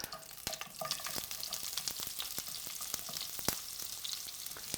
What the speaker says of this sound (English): now it's time to add the fresh onion into the sizzling dripping and Scottish rapeseed oil